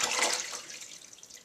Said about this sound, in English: You want to add distilled water, or if you have filtered tap water, that will work too.